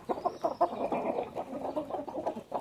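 A flock of farm chickens clucks steadily and fairly close, overlapping calls forming a busy continuous chatter with a few louder squawks, with no talk.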